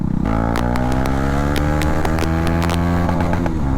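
A KTM Duke 250 motorcycle engine runs with no exhaust fitted, giving a loud, close, raw mechanical roar that stays steady and harsh throughout with a rapid pulsing throb.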